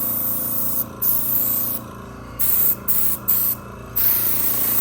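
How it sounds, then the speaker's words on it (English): Airbrush spraying paint in light passes along the edges of a hot Vmac9 gun upper, a steady close hiss broken by several short trigger bursts over a constant background hum. "that's what's great about an airbrush, okay? You're not going to goop anything if you're careful."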